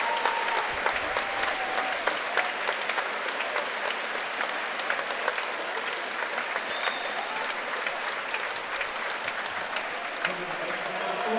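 Spectators at a U17 Canadian national championship basketball game applaud a player, sustained clapping and cheering filling the gym at an even level, while a commentator talks over it.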